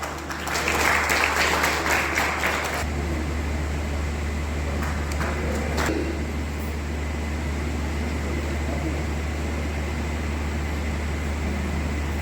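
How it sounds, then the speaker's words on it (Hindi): Audience applause at a Rotary Club installation ceremony honouring soldiers: a dense, loud burst of clapping for about three seconds, then fading into a steady hum of fans or air conditioning in the hall. "आप लोग तालियां बजाते हैं"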